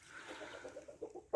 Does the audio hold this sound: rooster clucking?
yes